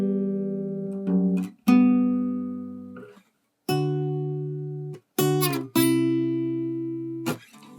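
Melody example on guitar for an acoustic song, with a handful of separate plucked notes that ring and decay, some short gaps and a brief pause between phrases, played alone without talk.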